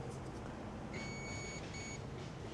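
A continuity tester beeps in two short tones, a longer one and then a briefer one, while probing a bank 1 coil pack wire during LS engine wiring, faint against steady background hiss.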